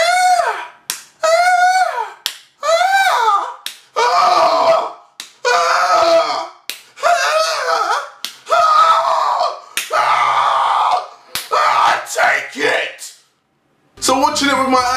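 A voice imitates a tennis player's loud grunting screams, a series of sharp, strained shrieks repeated in quick bursts with short pauses between, close and loud.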